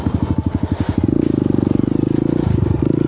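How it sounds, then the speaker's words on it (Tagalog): A Honda Africa Twin motorcycle working through an obstacle course, its engine loud and close, pulsing in rapid bursts that settle into a steady throbbing idle and rev, then dip briefly before picking up again. "Ang problema sa motor ni Bro Alfred is Africa Twin, wala siyang clutch."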